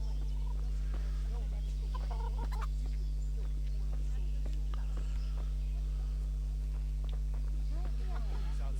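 Chickens in the medieval video game Kingdom Come: Deliverance cluck softly and sporadically over a steady electrical hum.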